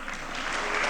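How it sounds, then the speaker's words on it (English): Audience applause at an Oxford generative AI summit, a brief, steady roar of many hands clapping that swells slightly toward the end. "Another round of applause"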